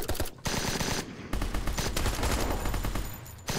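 Automatic gunfire in a shooter video game, loud rapid bursts separated by brief pauses, heavy and continuous through most of the clip.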